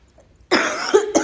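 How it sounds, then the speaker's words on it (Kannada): A person coughs at close range after a moment of near silence, two or three harsh bursts in quick succession, loud and alone with no talk. "ಕೆಮ್ಮು,"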